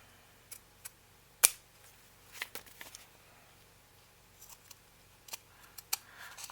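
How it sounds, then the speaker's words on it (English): Scissors snip extra lace trimmed from a handmade paper journal, a scattering of faint, sharp single cuts spaced irregularly across a quiet background. "let's trim this extra lace"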